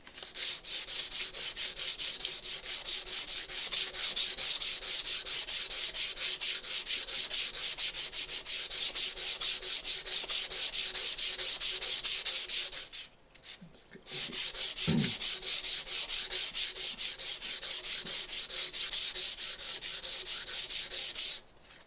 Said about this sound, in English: I'm going to go to the 220 grit. And this is just regular sandpaper.